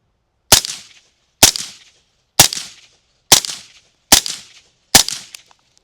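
Six sharp rifle shots crack out at an even pace about one second apart, each loud and close with a short decaying tail, and nothing but quiet between them.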